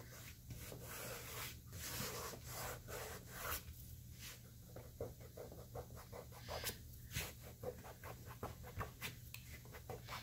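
Excess glue being wiped off a junk journal page, a soft, steady rubbing and scraping that repeats in short strokes, close by, with a constant low hum underneath and no talking.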